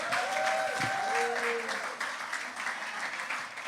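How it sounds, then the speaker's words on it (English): An audience gives Governor Kathy Hochul a round of applause: steady, dense clapping from a large crowd indoors, with a voice speaking over the start. "Let's give her another round of applause."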